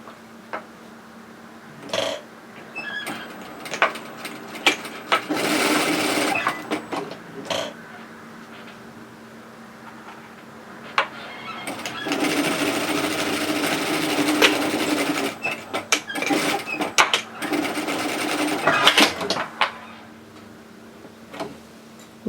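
A sewing machine stitches a seam on a lined tote bag in several bursts of fast, even mechanical whirring, broken by pauses filled with small clicks and handling sounds.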